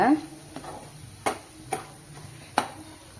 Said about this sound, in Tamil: இதில் வந்து நம்ம கடுகும் வெந்தயமும் நுணுக்கி வச்சுருந்தோம்ல ட்ரை ரோஸ்ட் பண்ணி அதை இப்போ சேர்த்துக்கோங்க சேர்த்துட்டு நல்லா கலந்து கொடுங்க